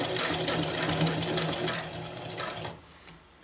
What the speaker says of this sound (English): I'm first going to just lock my stitch.